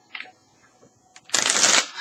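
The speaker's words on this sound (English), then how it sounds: "This deck is kind of old and it's kind of hard to shuffle." Shuffling an old, worn tarot deck, a brief soft riffle early on and then a louder dense burst of card flutter lasting about half a second, heard alone up close.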